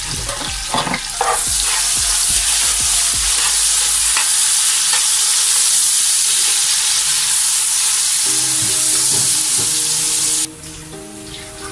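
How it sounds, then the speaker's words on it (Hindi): Onions sizzling and frying in a hot pan for chicken biryani, a steady loud crackle running throughout, with stirring clatter near the start and again toward the end; no one speaks. "हमने इसके अंदर प्याज डाल दिए। इसको प्याज को हम गोल्डन ब्राउन करेंगे।"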